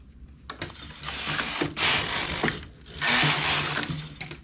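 A knitting machine carriage sweeps across thick wool in two long rasping passes, a close mechanical rubbing and clacking with short pauses between strokes and no talk.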